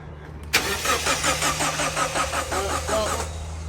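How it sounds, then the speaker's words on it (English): A car engine cranks repeatedly in a rhythmic chugging, turning over without catching, loud and close, at the WRC Safari Rally in Kenya. "Car won't start."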